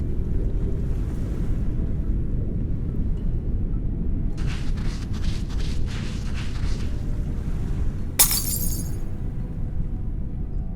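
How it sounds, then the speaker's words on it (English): A glass bottle breaks into shards in the adventure game Secret Files: Sam Peters, a short bright crash near the end over steady wind and ocean-like ambience, with some rattling before it. "The bottle's broken into shards of glass."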